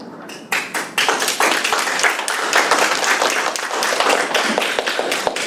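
Audience applause fills a city council meeting room in Universal City, Texas: a dense, steady wash of many hands clapping, loud and sustained throughout after a brief quieter start.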